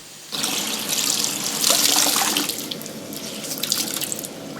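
Tap water gushes into a sink while freshly dyed fabric is rinsed, a loud, steady splashing stream starting abruptly and continuing throughout with surging and trickling variations.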